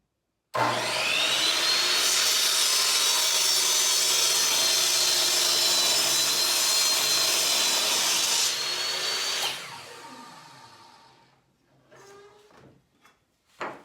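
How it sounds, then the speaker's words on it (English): A saw cutting through a wooden cross beam on a worktable sawmill, a loud continuous whine and rasp of the blade in the wood for about nine seconds, then winding down, followed by a few faint knocks and handling sounds. "I've measured that, set it up on the saw, ready to make the cut."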